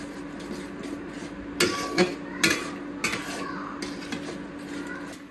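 Spice paste with garam masala for a tangy chicken curry gets stirred and fried in a pan: a few sharp metal clanks and scrapes of the spoon against the pan over a faint, steady background.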